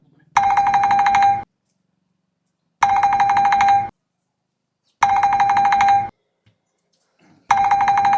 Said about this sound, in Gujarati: જો પાછો ફોન આવ્યો ઉપર.